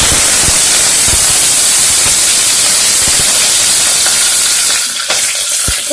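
Curry leaves hit hot oil with popped mustard seeds and cumin, making a loud, continuous close hiss and sizzle dotted with sharp crackles and pops that settles slightly near the end.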